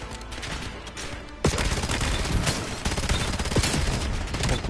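Bursts of rapid automatic gunfire from a high-recoil weapon in the Call of Duty Black Ops 7 campaign, loud and dense, starting quieter then a sharp onset of sustained fire with occasional distinct shots.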